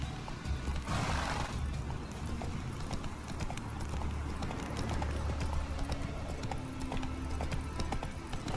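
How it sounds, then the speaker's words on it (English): Horse hooves clip-clop in a steady, continuous rhythm during riding in The Witcher 3: Wild Hunt, with a brief whinny-like burst near the start over a dense layer of game sound. "Oh man, I suck at driving this horse."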